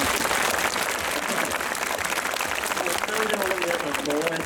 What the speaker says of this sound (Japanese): じゃあ皆さん拍手しましょうか